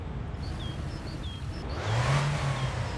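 A car engine in the driving game My Winter Car revs after a cold start, a low throaty rise swelling midway and holding steady, close and moderately loud.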